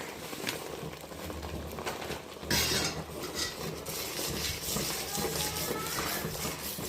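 A metal spoon stirs chili powder, coriander-cumin, turmeric and masala into a cooking pot for sev sal, with repeated soft clinks and scraping over a sizzling background and one sharper clang partway through.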